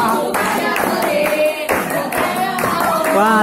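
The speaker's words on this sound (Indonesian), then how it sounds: "teman-teman kakak lagi nyanyi dan tepuk tangan nih guys" Friends at a 17th birthday party at a restaurant sing together, with their voices over rhythmic hand clapping, loud and close, throughout.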